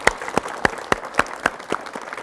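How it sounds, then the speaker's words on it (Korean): Studio audience applause on a 1985 Korean television talk show, greeting the country's first woman doctor of agriculture as she comes on. A steady wash of clapping runs throughout, with no one speaking over it. "박수로 맞이해 주십시오."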